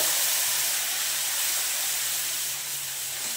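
Spice paste of cumin, chili and turmeric hits hot oil for a Bengali radish and morola fish curry, giving a steady, loud, even sizzling hiss that holds without a break.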